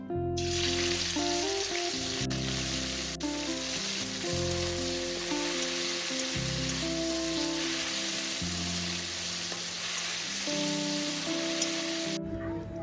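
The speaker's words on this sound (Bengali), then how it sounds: "সেম প্রসেসে সমস্ত মাছ ভেজে নিয়ে তারপর ফিরে আসবে" Small fish fry in a pan of hot oil, giving a steady, dense sizzle that crackles continuously and stays close and loud with no voices.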